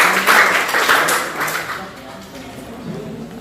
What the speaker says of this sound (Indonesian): tepuk tangannya mana untuk kelompok klasik?